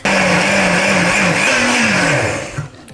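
A food processor (rondo) blends pasta sauce with a ladle and a half of pasta water, a loud steady motor whir with a wavering pitch throughout, ending with a short drop as it slows.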